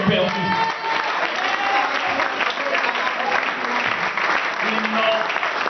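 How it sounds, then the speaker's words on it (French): A crowd at a church gathering for young people claps loudly and continuously, a dense sustained wash of applause with a voice speaking over it. "On acclame pour ceux qui ont perdu."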